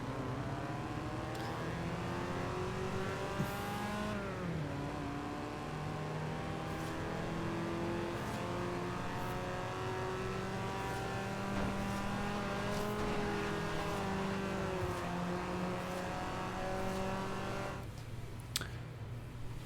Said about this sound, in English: Veloster N sounds awesome